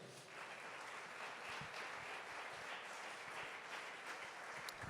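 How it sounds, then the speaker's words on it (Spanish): A church congregation claps together in steady, continuous applause during a sermon, a dense, even patter that stays level throughout and is heard alone. "Denle un aplauso al Señor por esto."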